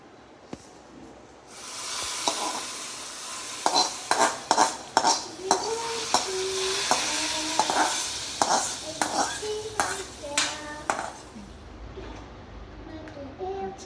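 Hot tempering poured into a simmering homemade fish curry bursts into a loud sizzle, followed by a spoon clanking and scraping against the pot in a run of sharp metallic strikes, close up with no talk.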